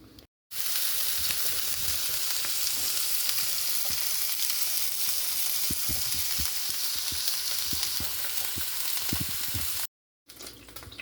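Defrosted pork sautéing in olive oil in a pan gives a steady, dense sizzle with scattered pops and crackles, close and continuous, no voices.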